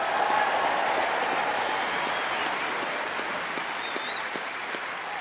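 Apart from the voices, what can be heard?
tennis crowd applause at the Australian Open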